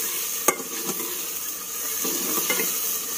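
Tomatoes and green chilies sizzling steadily in a pan with browned onions, with a few sharp utensil clinks and stirring scrapes over the constant hiss.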